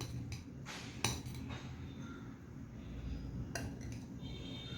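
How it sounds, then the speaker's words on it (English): A small spoon clinks against a dish while Lebanese potato salad is mixed, giving a few sharp metallic taps among soft scraping and stirring, close up and fairly quiet. "now I'm going to mix all this together. I'll take a smaller spoon."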